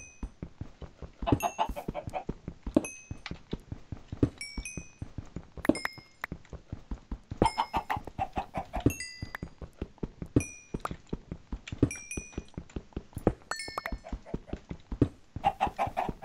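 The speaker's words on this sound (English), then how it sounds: "Excuse me, chickens, I'm trying to get this coal." Chickens in the video game Minecraft cluck again and again at close range, their short calls scattered over a steady run of rhythmic tapping that lasts throughout.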